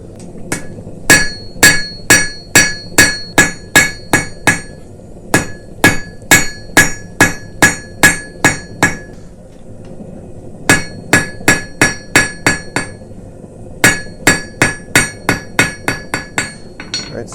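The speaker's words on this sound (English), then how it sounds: "when we draw this out, we can taper that in a little bit more" A blacksmith hammers hot steel, drawing out and tapering the end of a forged Christmas ornament. Loud, ringing blows land in fast, even runs, with short pauses between the groups and no talking.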